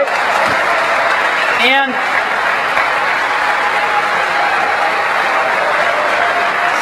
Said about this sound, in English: we very much appreciate the applause